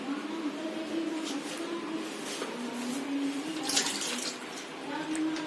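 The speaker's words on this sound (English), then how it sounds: "We'll drain all the excess water." Water rushes and splashes steadily as soaking water drains from soaked chickpeas, like pouring through a strainer, with a continuous hissing flow and no talking.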